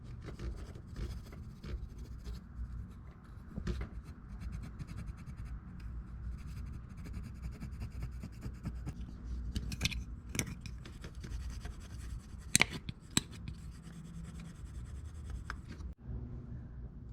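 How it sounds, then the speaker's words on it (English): A red plastic razor blade scrapes old Honda Bond sealant off an aluminum cylinder head of a 1994 Acura Integra GSR, making a steady close scratching rasp with a few sharper strokes and clicks toward the end, no talk. "take a plastic razor blade and clean off the remaining of that old Honda bond on there"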